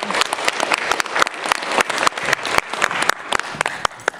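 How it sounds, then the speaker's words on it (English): A small crowd at a Teal Ribbon Project event claps in a lively round of applause, with distinct, uneven individual claps close by and a few faint voices beneath. "Give them a big round of applause"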